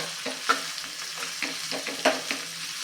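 Chopped bottle gourd with masala being stirred in a pan, a spatula scraping and clinking at an irregular rhythm over a soft sizzle, close and fairly quiet, with no talking.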